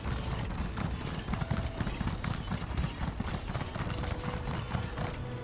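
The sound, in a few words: horse galloping in the video game The Elder Scrolls Online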